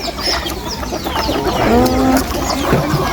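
Chickens cluck and call close by at a Thai temple merit-making gathering, several overlapping bird sounds over a busy, steady background with no clear talk.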